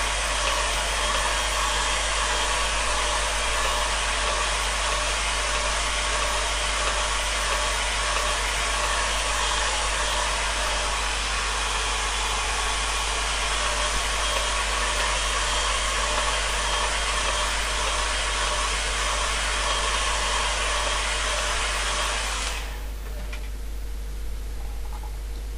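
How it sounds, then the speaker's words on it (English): A hairdryer drying a watercolour landscape painting roars continuously at close range, a steady loud blowing whoosh with motor hum that cuts off abruptly near the end, leaving quiet room noise. "I'm just going to give that a quick dry now with the hairdryer."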